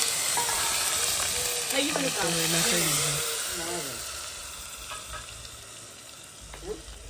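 Cumin seeds frying in hot oil in a pan for a spinach and paneer dish, a loud, continuous sizzle that crackles throughout while a voice talks over it partway through.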